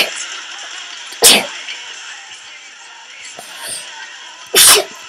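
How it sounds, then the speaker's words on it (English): Two sharp, loud sneezes from a person, roughly three seconds apart, each a sudden burst standing out against quiet background room noise. "I sneezed."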